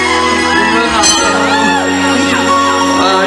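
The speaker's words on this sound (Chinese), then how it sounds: "给自己一个尖叫声加掌声" Concert audience at a Christmas music show at Taipei 101 cheers and screams in a loud, sustained wash of crowd noise, with a sung or amplified voice line drifting over the roar throughout.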